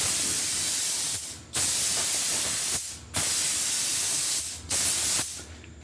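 Rust-Oleum spray paint hisses out in three long continuous bursts, each lasting over a second, separated by short pauses as a second coat goes on; close, loud and steady with no talking.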